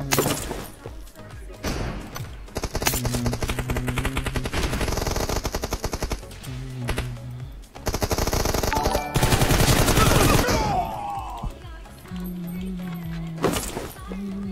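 Rifle gunfire in a shooter video game, loud bursts and rapid rattling volleys that pause and resume across the scene, mixed with thuds and clatter while players talk over the action.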